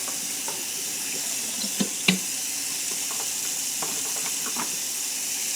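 Cool water runs steadily from a sink tap for washing a wig, a constant close hiss with a few small splashes and clinks of handling mixed in.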